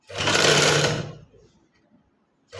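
A sewing machine stitches a lace collar on a girl's frock in one quick, loud burst of about a second close by, then stops and leaves near silence with faint handling sounds.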